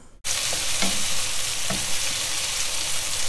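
Shrimp cooking in a black pepper masala bursts into a loud, close sizzle and keeps frying steadily, with a few light stirring knocks in the pan.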